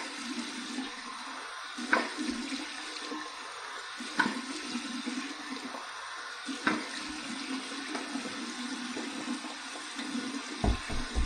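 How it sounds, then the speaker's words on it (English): Cold tap water runs steadily for a rinse after a shave, a continuous close splashing hiss with a few louder splashes as hands or face dip into the stream. "Here's my cold water rinse."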